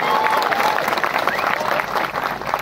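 A crowd at an Aam Aadmi Party rally in a Gujarat village applauds loudly and steadily for MLA Chaitar Vasava, with faint voices mixed into the dense clapping.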